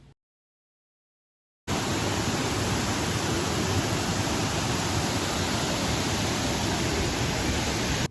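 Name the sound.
Kothapalli waterfall rushing water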